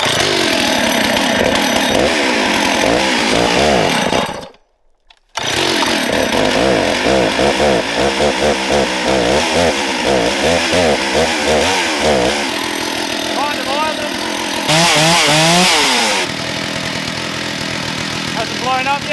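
A rare red-light Stihl 066 chainsaw engine revs loudly and close, rising and falling through repeated throttle blips. It drops out briefly for about a second, then picks back up with more revving, a steadier idle and one sharp high rev.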